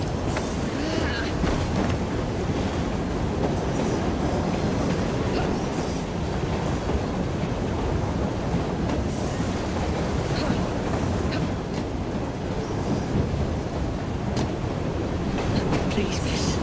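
Train travel in Assassin's Creed Syndicate, with a dense, steady rumble of rolling rail cars mixed with wave-like wash that fills the whole stretch at an even, loud level without breaks.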